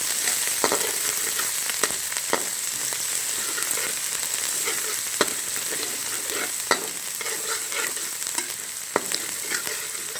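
Garlic ginger paste frying in a pan for chicken kabab, a steady close sizzle broken by sharp spatula scrapes and taps at irregular intervals, with no talk.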